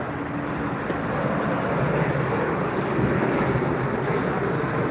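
A jet airplane taking off at Frankfurt Airport gives a loud, continuous broadband engine roar, close and steady throughout, with no talking.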